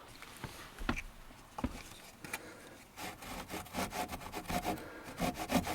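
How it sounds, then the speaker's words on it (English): A handsaw working through wood, scattered strokes at first, then quicker, regular rasping back-and-forth strokes, close and fairly quiet. "So I will be sawing this very gently with a handsaw."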